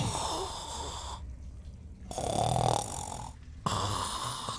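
A tabletop game master imitates a coarse, gross snore with his voice, two long rasping snore breaths separated by short quiet gaps, loud and close with no other talk.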